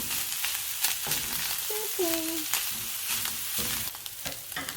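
Spicy taco-style ground beef with tomatoes browns in a pan, sizzling steadily and close up, with scattered scrapes and clicks from stirring and no talking.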